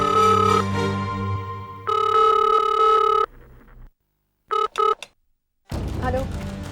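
Telephone rings in an indoor scene from a Hindi TV serial: a long, loud electronic ringing tone, then a second burst of ringing, brief beeps, and a final ring near the end.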